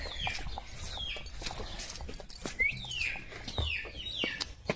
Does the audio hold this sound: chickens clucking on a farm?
yes